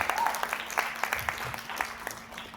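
An indoor audience at a corporate welcome event in Kolkata claps in a brief round of applause, with a voice talking over the clapping.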